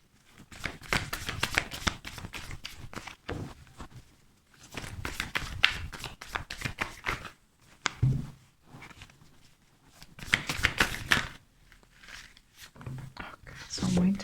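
Tarot cards are shuffled in bursts of soft, papery riffling and sliding, close by, broken by pauses, with someone speaking quietly over and between the shuffles.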